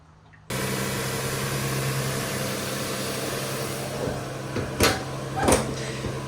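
A 2002 Lexus IS300 engine runs steadily after an oil change, a constant close hum that starts abruptly and carries on with a couple of brief louder knocks near the end.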